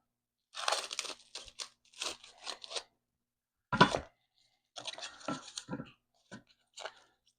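Plastic packaging of lean ground beef being sliced and torn open in a kitchen, a series of close, crisp crinkling cuts in short bursts with pauses between them.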